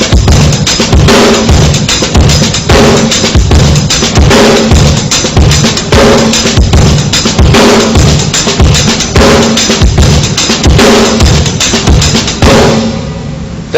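A drum kit lays down a loping shuffle groove in the Jeff Porcaro style, with punchy bass drum, crisp backbeat and steady cymbal pulses repeating loudly and evenly for several bars before the last hit fades.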